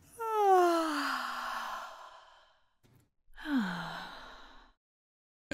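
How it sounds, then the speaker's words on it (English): A person gives a long, drawn-out yawn that slides downward in pitch, then a second, shorter one after a pause, both close and breathy. "That's a big yawn"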